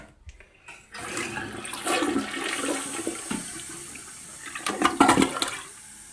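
A toilet with a worn flapper flushes nearby: a click of the handle, then a rushing gurgle of water that swells, churns and slowly tapers off, heard alone without talk.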